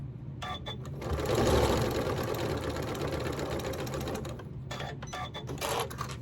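A sewing machine runs steadily for several seconds stitching quilt-as-you-go sashing onto T-shirt quilt blocks, a continuous close mechanical whir framed by brief starts and stops at either end.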